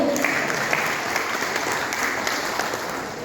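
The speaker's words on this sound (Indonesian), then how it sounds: "Tepuk tangan yang meriah Bapak Ibu" Steady, dense applause from an audience at a municipal planning forum, a continuous even wash of clapping from a crowded hall with no break for several seconds.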